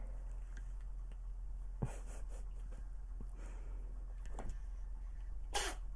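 A couple of short, sharp sneezes from a cat, quiet and close, spaced a few seconds apart against a low steady hum.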